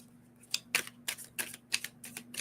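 Oracle cards shuffled aggressively in the hands, a series of sharp, papery riffling bursts in quick irregular succession, close and alone with no talk.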